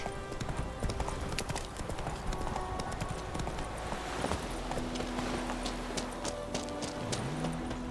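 Steady clip-clop of horse hooves at a quick gait in The Witcher 3, the rhythmic thuds running continuously over a busy game soundscape.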